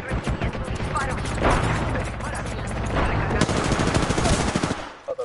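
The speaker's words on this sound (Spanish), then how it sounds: "Estoy recibiendo disparos." Dense bursts of rapid gunfire and shots crackle continuously, with explosions and voices mixed into the loud, chaotic barrage.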